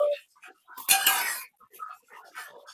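Tilapia pieces being stirred and sautéed with spices in a pan, a few scraping, clattering bursts of spoon on metal, the loudest about a second in, mixed with short gaps and faint talk.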